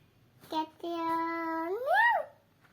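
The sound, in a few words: child imitating a cat meowing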